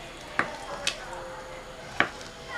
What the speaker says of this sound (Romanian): Luăm vinetele, îi tăiem cotorașul aici.